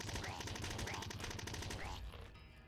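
Revolver fire in the top-down shooter Nuclear Throne Ultra Mod: a dense, steady stream of rapid shots and impact effects runs loud and continuous, dropping off near the end.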